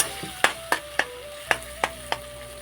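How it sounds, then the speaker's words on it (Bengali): A spoon works through spiced mung dal and vegetables in a pan, knocking against the metal about seven times in a loose, steady rhythm over a faint sizzle and low hum. No one speaks. "সব কিছু এখন আমি ভালো করে নেড়ে চেড়ে নিচ্ছি।"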